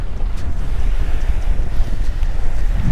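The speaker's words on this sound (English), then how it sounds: "It's really windy, it's pushing this way" Strong wind on a beach buffets the microphone in a constant low roar, with surf faintly churning underneath and no voices.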